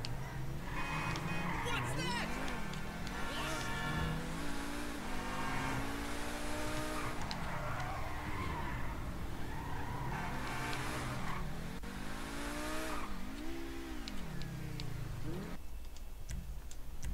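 An engine in GTA V revs and shifts repeatedly as a car is driven, pitch climbing and falling in waves under a constant ticking, steady and continuous with someone talking over it.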